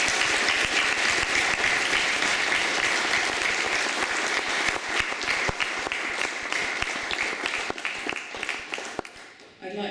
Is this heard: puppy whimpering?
no